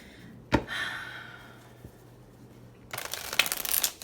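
A card snaps down, then after a quiet pause a brisk close riffle of shuffling cards for about a second.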